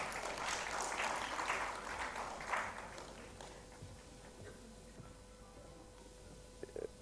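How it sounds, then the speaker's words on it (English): An audience at a conference plenary session applauds, a soft, fairly distant burst of clapping that fades out after a few seconds, leaving a quiet room with a few faint taps. "So let's have a round of applause"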